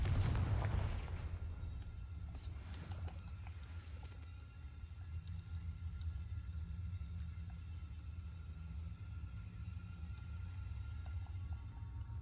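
A Confringo blasting-curse explosion in Hogwarts Legacy hits hard at the start, then fades into a low, lingering rumble with a faint hum.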